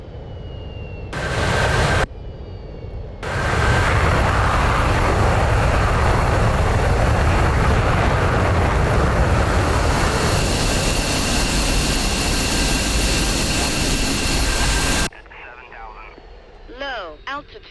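Jet engine idling in the DCS World flight simulator, a steady broad roar with a thin high whine that fills most of the span after a couple of brief starts and cuts off sharply near the end.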